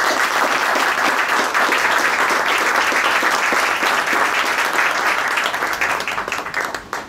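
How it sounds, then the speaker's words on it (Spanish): An audience at a cultural heritage ceremony in Buenos Aires breaks into a full, sustained round of applause that holds steady and then tapers off at the end. "Eso ya merece un aplauso"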